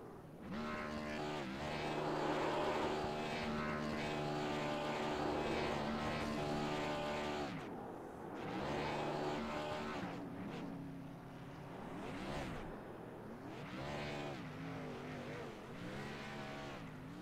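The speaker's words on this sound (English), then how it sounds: "he will come around and do his burnouts" Stock-car engine roars of a Toyota Camry race car doing burnouts in the iRacing video game after a league race at ISM Raceway, loud and sustained with rising and falling revs.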